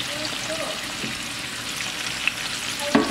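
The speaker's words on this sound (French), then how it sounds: "va laisser ça encore mijoter pendant au moins 10 à 15 minutes" Pangasius fish and onions cook in a pan, giving a soft, steady sizzle and bubbling with a few faint clinks near the end, under quiet talk.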